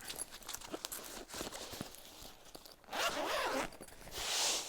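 A zipper is pulled open on the case of a Neewer 660 LED panel light kit, with soft handling rustles first and then two bright, close zipping runs near the end.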